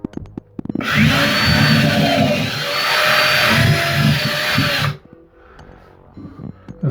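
A power drill enlarges a hole in a wall for an anchor while a bathroom wall cabinet is being built, running loud and steady for about four seconds, then stopping into quiet handling noises.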